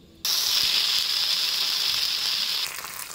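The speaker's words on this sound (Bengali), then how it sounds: "তেলটা গরম হয়ে গেছে, ফোড়ন দেবো দুটো শুকনো লঙ্কা আর 5 ফোড়ন।" Dried red chillies, panch phoron and ginger paste hit hot mustard oil, bursting into a sudden loud, close sizzle that holds steady and then eases off slightly near the end.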